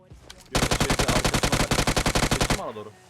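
M249 machine gun firing in a video game, one rapid sustained burst of about two dozen evenly spaced loud shots, starting abruptly and stopping sharply, with brief faint talk before and after.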